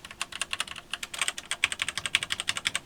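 Steady, brisk typing on an Atari Mega 1 computer keyboard, a high-quality classic unit, produces a close, continuous patter of crisp key clicks with no speech over it.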